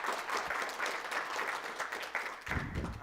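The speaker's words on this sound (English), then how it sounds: "one more round of applause for you" A conference audience gives steady applause in a room after a talk, dense clapping that stays moderately loud throughout the short stretch.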